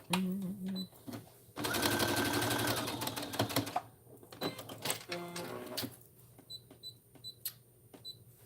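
A sewing machine bastes the lower side seams of a trench coat in a long, fast mechanical whirring run, then shorter bursts and clicks as the fabric is repositioned, with a brief voice nearby.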